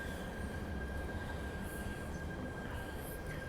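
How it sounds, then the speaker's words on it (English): A Hong Kong MTR K-train rolls steadily through Tsing Yi Station, a faint, continuous rumble of wheels on rail with a thin high whine running through it, and no voices. "I think this is the only K train for the day."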